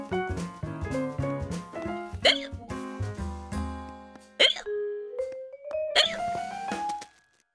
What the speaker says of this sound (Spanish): Llevo con este hipo... 2 semanas